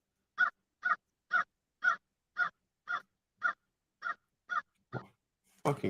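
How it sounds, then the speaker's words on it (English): A crow near the Chesapeake Bay gives about ten evenly spaced, identical caws in a steady rhythm, clear and alone against quiet, ending with a brief burst of other noise. "Fucking crow yapping."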